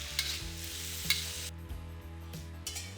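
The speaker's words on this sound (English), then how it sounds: "Bring it to a boil and reduce the sauce by about half." Miso pork stir-fry sauce bubbles in a pan with a soft, steady sizzle and a few light clinks of stirring, faint and close with no talking.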